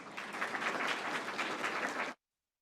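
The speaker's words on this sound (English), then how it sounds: "let's once again extend our warmest applause to welcome His Excellency President Dr. Moha" Steady applause from a crowd at a formal reception marking China's 76th National Day, sustained and even for about two seconds before cutting off sharply into silence.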